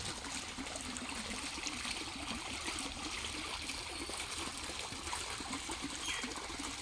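Water runs steadily out of a fish-farming tank used for raising murrel (snakehead) fish, a continuous trickling, gushing flow heard close by and alone for about seven seconds.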